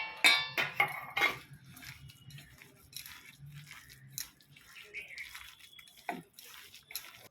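Lentil paste is worked into pakora batter in a bowl: wet squelches, soft drips and occasional light clinks of utensils, close and intermittent, with quiet low sounds between strokes.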